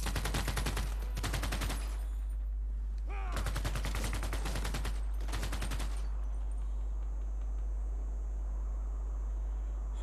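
Units firing in the strategy game Civilization VI: Rise and Fall, playing as Scotland, sound as several rapid crackling bursts of volley gunfire over the first six seconds. A quieter steady background tone follows.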